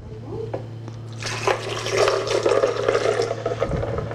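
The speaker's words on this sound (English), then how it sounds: "Are you gonna add the ice first, maybe? The ice and the water." Ice and water are poured into a blender, beginning with a low hum before a loud, splashing, rattling pour that continues to the end.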